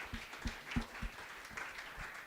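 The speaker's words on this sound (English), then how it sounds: "That deserves a round of applause, ladies and gentlemen." Thin, sparse clapping from an audience at a cricket league announcement event, a handful of distinct claps spaced unevenly over a couple of seconds, faint and somewhat distant.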